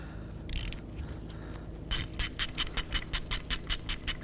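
Ratchet with a 17mm socket working on the caliper bracket bolts of a 2007-2013 Acura MDX: a few scattered clicks, then a steady run of about a dozen rapid, evenly spaced ratcheting clicks, close and fairly quiet.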